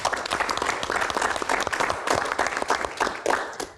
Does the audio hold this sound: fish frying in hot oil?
no